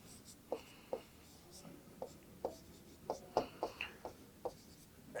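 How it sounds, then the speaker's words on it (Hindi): Scattered taps and short scratchy strokes of marker or chalk writing a word on a board, about a dozen irregular ticks at moderate level with no talk. "यहां लिखता हूं"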